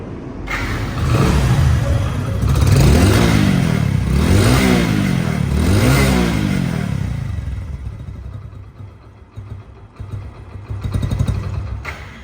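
A second-hand Hero Splendor Plus motorcycle engine self-starts and revs up three times in quick succession, then settles into a steady idle, with a brief rev near the end.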